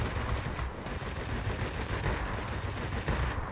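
Aircraft guns in World of Warplanes rattle in continuous rapid bursts under a steady roar of engine and wind, dense and loud throughout, with no talking.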